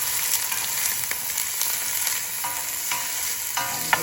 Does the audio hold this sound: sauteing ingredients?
yes